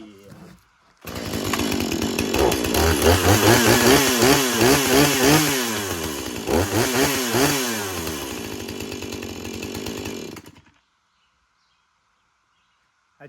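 A freshly sharpened chainsaw carving into oak wood, its loud engine revving and bogging repeatedly for about nine seconds, close by and with no talk, before cutting off abruptly.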